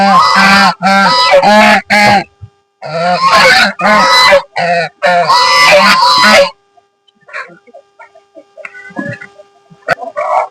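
Geese honk loudly and close by in rapid, clustered bursts for several seconds, then the honking drops to scattered, fainter calls.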